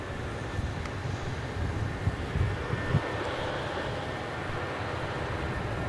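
A Jetstar Airbus A320-200 departs Melbourne Airport on a flight to Sydney, its distant engines giving a steady broad roar throughout with a few low thumps, partly blended with wind noise.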